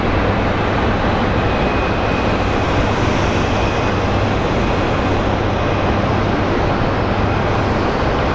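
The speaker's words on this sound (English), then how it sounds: "We have a pushback of a SkyWest Embraer" A SkyWest Embraer jet is pushed back at Phoenix Sky Harbor International Airport, a steady, loud broadband jet engine roar with a low droning hum holding constant throughout, no voices.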